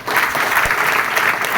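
An audience at a marketing company's leadership gathering breaks into loud, dense clapping, a brief close burst with no voices over it.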